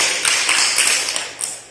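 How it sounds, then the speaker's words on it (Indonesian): A high school vocational class gives a short burst of brisk clapping for a student group after its project presentation. The crowd is close and fairly loud. "beri tepuk tangan untuk kelompok 1"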